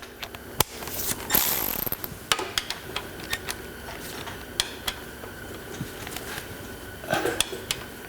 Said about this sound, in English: Now I'm ready to tighten the bolts.